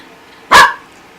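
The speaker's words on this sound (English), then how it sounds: "doesn't like it when you bark in his face" A dog playing indoors on a futon gives one sharp, loud bark close by.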